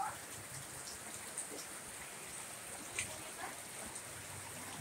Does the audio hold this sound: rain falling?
yes